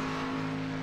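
Racing trucks run on a track, their engines a steady, fairly loud drone with a strong hum throughout a brief moment and no voices.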